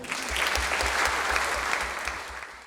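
Applause from the crowd at a sports awards night, a full, steady roar of many hands clapping that swells slightly and then tapers off toward the end.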